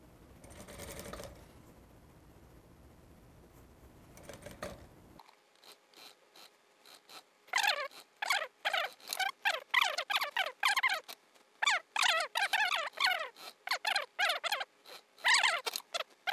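A sewing machine stitches fabric in a steady series of rapid mechanical clatters with short pauses between runs, close and fairly loud, after a few seconds of quieter background hiss, with no talking.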